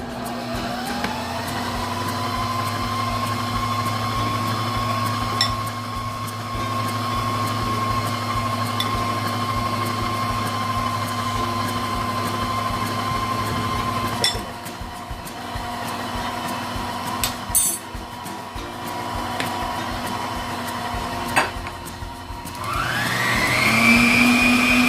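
Electric stand mixer hums steadily at low speed as flour is added to whipped egg whites for a sponge cake batter, a close continuous whine with brief clatters, rising in pitch as it speeds up at the end; no talk.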